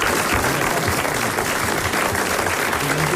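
Thick, sustained clapping from a studio audience on a French radio show, a loud, even roar of many hands throughout with no voices over it.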